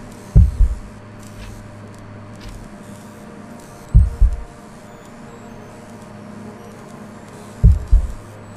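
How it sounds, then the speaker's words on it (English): Heartbeat sound effect from the video game Robocop Rogue City, three loud, deep lub-dub thumps spaced several seconds apart over a quiet hum. "Can hear me heartbeat, which is never a good sign."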